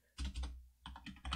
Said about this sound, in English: I'm tired of typing the same thing over and over and over again